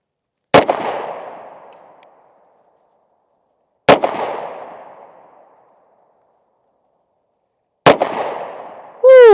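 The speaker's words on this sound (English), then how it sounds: "I'm gonna shoot those 5 dots across the top, and I'm gonna really get a feel for this trigger" Three loud, sharp FN Reflex pistol shots fired at a target outdoors, each a close crack with a long fading echo, spaced several seconds apart.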